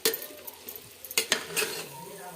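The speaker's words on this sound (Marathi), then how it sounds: "परतायला टाकला आहे कांदा" Onion sautés in a pan for masala rice, a soft low sizzle broken by repeated scrapes and clinks of a spoon stirring against the metal, fairly close and quiet.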